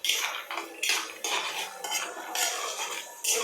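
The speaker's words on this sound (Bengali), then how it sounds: "বাদামগুলো ভেজে নিচ্ছি ভালো করে" Peanuts fry in a pan while being stirred, producing brisk metallic scraping and clinking strokes in repeated bursts, close and fairly loud, with no voices.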